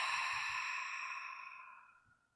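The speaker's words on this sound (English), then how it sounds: "Exhale out the mouth" A slow breath exhaled out through the mouth during a yoga session, a soft airy whoosh that starts clearly and fades away over about two seconds.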